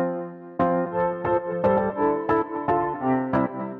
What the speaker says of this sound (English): Let's hear that original piano clip again.